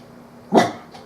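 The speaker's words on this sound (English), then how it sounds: "You'll hear my dog." A single short dog bark, fairly close and sharp, standing alone against a quiet background.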